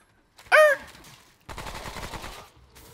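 Gunfire in the video game Remnant: From The Ashes, a sharp burst followed by about a second of rapid sustained shots, loud and close, with no talk over it.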